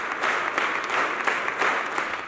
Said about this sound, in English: Participants engaged in a spirited clapping at varying intensities throughout the duration of the